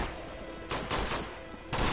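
Bursts of gunfire from blind-firing in Uncharted 2 Among Thieves: two or three loud, close shots in quick succession over a dense background din.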